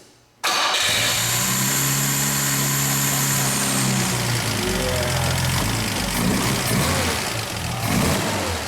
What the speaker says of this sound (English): We'll start it up, we'll get a little exhaust note, and then we'll shut it down.